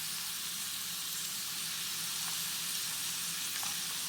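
Chopped garlic sizzles steadily in a frying pan while being stirred, a constant close crackling hiss with faint occasional scrapes.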